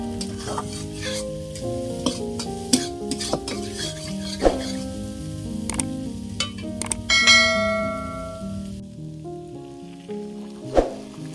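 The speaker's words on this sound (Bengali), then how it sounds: "ম্যাগিটা দেওয়ার পর একটু নেড়ে চেড়ে নিয়েছি" Maggi noodles being stirred through fried vegetables seasoned with turmeric and salt, with a spatula scraping and clinking against the pan in irregular strokes over a steady sizzle, clear and close.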